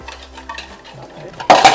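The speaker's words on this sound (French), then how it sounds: "on va touiller jusqu'à ce que la pâtissière devienne solide" A utensil clinks and scrapes against a metal saucepan while stirring thickening pastry cream, with soft scraping strokes followed by a louder burst of clattering near the end.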